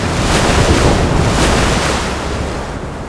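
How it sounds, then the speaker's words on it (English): Ocean waves roar in a loud, steady wash of broadband noise, with surf surging and blustery wind rumbling on the microphone throughout. "The ocean seems to flow and move with power and conviction."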